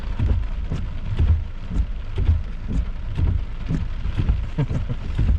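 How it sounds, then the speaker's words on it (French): Thunder rolls during a thunderstorm as low, heavy rumbles and thumps pulse repeatedly under steady pattering rain, loud and close throughout. "Tonnerre!"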